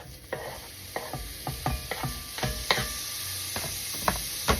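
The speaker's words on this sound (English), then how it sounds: "we're going to throw in some bacon here that I have sliced up" Sliced bacon frying in a pan for homemade bacon mac and cheese, with a steady low sizzle broken by repeated close scraping and stirring clicks.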